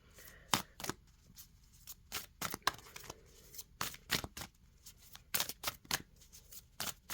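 Oracle cards shuffled and drawn from a deck, with a series of crisp, rapid riffling bursts and soft slaps, close and fairly quiet, with no talking.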